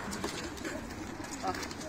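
Pigeons in a coop coo with soft, low rounded calls repeating through the scene, close by, while someone speaks over them.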